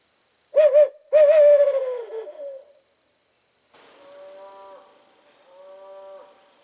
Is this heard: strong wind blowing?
no